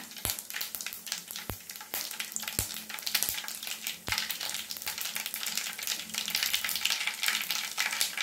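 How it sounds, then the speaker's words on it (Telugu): Mustard seeds and cumin crackle in hot oil, a dense stream of sharp pops and sizzles with sporadic louder snaps, close and continuous with no talking. "ఇందులో ఆవాలు, జీలకర్ర, చిట్పట్లు ఆడుతున్నాయి కదా."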